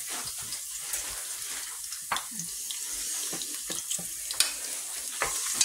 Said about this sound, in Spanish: lo primero que vamos a hacer es freír un poquito los ajos, ¿vale? Para darle sabor al aceite.